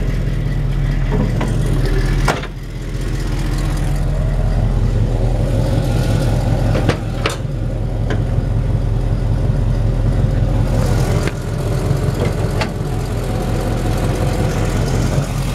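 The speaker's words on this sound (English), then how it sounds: "Engine fires right up." A 1973 Camaro V8 with long-tube headers and a small exhaust leak at the donut gasket idles loudly and steadily close by, a deep rumble with a few sharp ticks and puffs and no talking.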